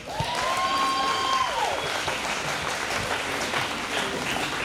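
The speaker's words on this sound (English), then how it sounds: "let's give these people a round of applause" Wedding reception guests break into applause after the toasts, a loud sustained wash of clapping from a crowd with a brief tone rising and falling at the start.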